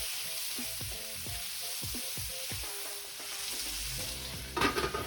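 Onions and tomatoes sauté in a pan with a steady close sizzle, while a utensil stirs and scrapes in a loose rhythm, followed by a brief louder burst near the end.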